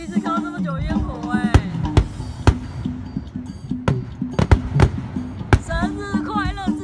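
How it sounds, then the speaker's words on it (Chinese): Fireworks show at the Sukhothai Loy Krathong lantern festival, with sharp bursts popping at irregular intervals, some loud and close, under steady crowd chatter and voices. "那我第一次看到这么久的烟火"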